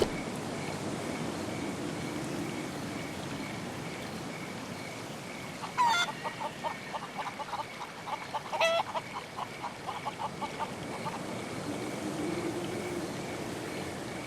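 A rooster gives a short run of clucks midway through, two quick bursts of rapid, moderately close calls over a steady outdoor background hiss.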